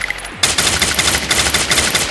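Loud, close automatic gunfire in the video game Free Fire rattles in a rapid, continuous burst after a short quieter lead-in.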